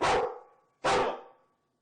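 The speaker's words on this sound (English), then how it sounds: "Meet Roy, a 3-year-old Belgian Malinois from the Netherlands" A Belgian Malinois police dog barks twice, two loud, close, sharp barks spaced under a second apart with a brief silence after each.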